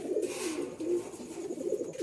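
Domestic flying pigeons coo in a low, repeated warble, close and steady through the short stretch, with no voices.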